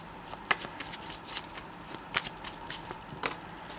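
Tarot cards being shuffled by hand, several crisp riffling bursts in quick succession with short gaps between them, close up and fairly quiet.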